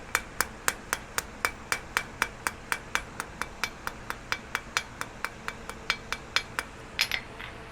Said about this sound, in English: Now I'm just planishing, I'm not forging anything.